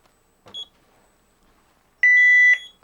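A 1992 CareTaker Plus home automation panel gives a short electronic beep, then a longer steady tone about half a second long, clear and close with no talking over it.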